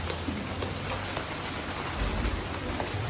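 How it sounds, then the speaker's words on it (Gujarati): Steady rain falls outside a home during a monsoon shower, a continuous dense hiss of drops on surfaces with low rumbling underneath, fairly close and unbroken, with no voices. "ગરમા ગરમ બાજરીના રોટલા બને છે અને ગાઈશ બહાર વરસાદ ચાલુ છે."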